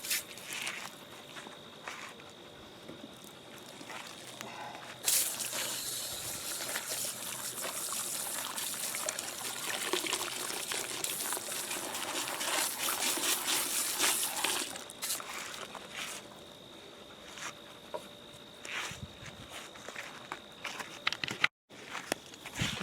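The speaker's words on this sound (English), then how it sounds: "Continue to rinse this off here. Get all the bleach off of it." A garden hose rinses bleach off a deer skull, a steady splashing wash of water, close, with a louder, denser spray in the middle stretch, then lighter trickling and a few handling knocks.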